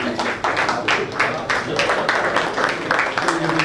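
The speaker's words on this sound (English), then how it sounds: "Give a big round of applause," Audience clapping in a hall at a Bar Council of Delhi felicitation function, with steady dense applause carrying through the whole stretch and a voice speaking over it.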